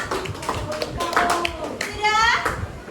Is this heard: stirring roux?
no